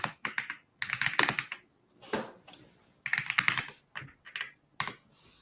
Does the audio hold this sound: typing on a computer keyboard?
yes